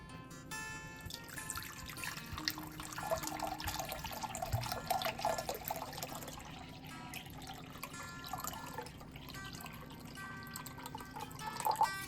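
Kitchen tap running water steadily into a sink while making sourdough bread, a continuous close hiss and splash lasting throughout with slight fluctuations and no speech.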